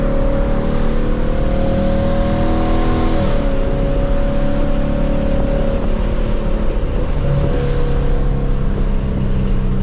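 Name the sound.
2024 Ford Mustang GT engine revving on a third-gear downshift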